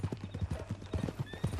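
Horse hooves clip-clop in a steady, close rhythm with a brief whinny, in the Red Dead Redemption 2 video game; a faint voice may sit underneath.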